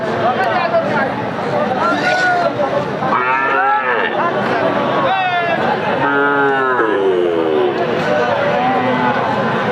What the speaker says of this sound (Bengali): অনেক গরু দর্শক বেচা কিনা চলতেছে